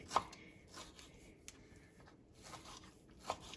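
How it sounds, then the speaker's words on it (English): A knife dicing vegetables on a cutting board for coconut shrimp curry, quick soft chopping taps in an uneven rhythm, close and fairly quiet. "So I'm just giving these a quick dice."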